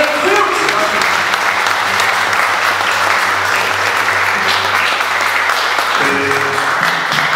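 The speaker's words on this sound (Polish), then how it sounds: "Brawa." Loud, sustained crowd applause fills a festival award ceremony at Miasto Gwiazd 2014 in Poland, clapping steadily throughout with a low hum and faint voices underneath.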